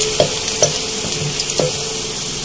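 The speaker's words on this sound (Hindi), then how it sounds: "लहसुन को एकदम थोड़ा सा फ्राई करूंगी" Garlic frying in hot oil in a pan for spinach and potato curry, with a loud continuous sizzle and a few soft knocks of stirring, heard up close and alone.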